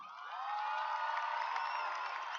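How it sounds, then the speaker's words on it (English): A high school graduation crowd cheers and whoops in a sustained, distant-sounding swell, with some clapping blended into the roar. "graduates, if you would give your parents and family a big round of applause"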